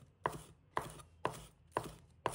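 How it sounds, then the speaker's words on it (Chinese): A knife chops scallions into small rings on a board: five evenly spaced, crisp strokes, each followed by a brief ring, quiet and close with nothing else around them. "再准备几个根小葱，把它切成葱花"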